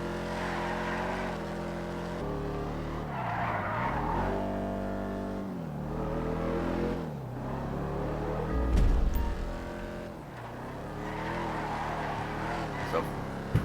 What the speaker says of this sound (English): we're now going to do some high-speed drifting, some handbrake sliding as I refer to it as, and see how it does with this